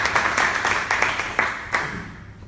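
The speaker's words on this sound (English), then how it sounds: "Can you clap your hands?" Audience clapping in a hall, a scattered burst of applause with separate hand claps rising and fading over a couple of seconds, moderately loud and without speech.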